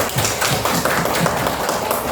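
A classroom of students claps for a classmate during a natural science lesson, a brief burst of dense, steady applause from the room with little talk.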